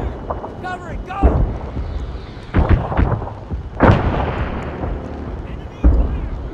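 Gunfire and explosions in the Arma 3 video game, several sharp loud bangs and booming blasts spaced a second or two apart over a rumbling battlefield background, with shouted voices between them.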